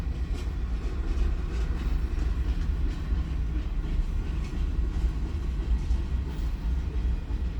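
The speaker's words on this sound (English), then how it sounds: "watch the train go by" A train rolls past at close range, its heavy low rumble and steady clatter of railroad cars continuous and loud throughout, with no voices over it.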